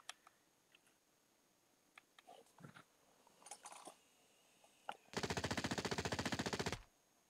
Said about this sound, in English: They threw a frag and were trying to shoot you at the same time